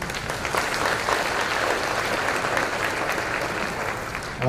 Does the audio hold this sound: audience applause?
yes